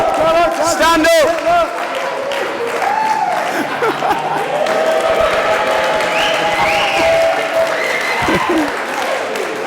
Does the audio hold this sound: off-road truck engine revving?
no